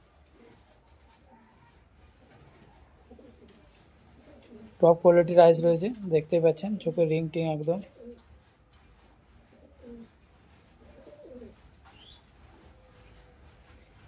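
Teddy pigeons of the Mugli breed coo in a loud burst of several rhythmic calls lasting about three seconds, close by, with someone talking before and after and faint bird sounds scattered through the rest.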